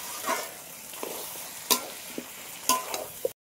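Mutton stirred into oily, well-fried spice paste in a pan: a soft background sizzle with several sharp scraping clacks of the spoon against the pan, spaced irregularly, close and alone.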